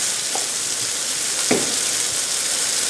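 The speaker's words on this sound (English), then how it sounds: "Go ahead and add my pepper now. This way the pepper starts roasting." Pepper sizzling as it roasts in a pan for a crustless crab quiche: a steady, close frying hiss that runs throughout, broken by a couple of soft scraping stirs.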